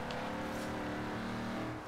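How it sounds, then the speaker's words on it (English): A Lexus LFA in Forza Horizon 3 gives a brief, dense engine roar at steady loudness under a noisy game mix. "give you some LFA noise"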